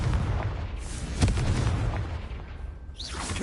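A Confringo curse in Hogwarts Legacy goes off as a low, rumbling blast. A sharp burst sits in the middle of a continuous booming roar, with a brief whooshing tail near the end.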